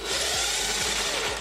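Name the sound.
power drill making a hole in car body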